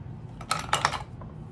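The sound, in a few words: Tarte Maracuja lip product falling down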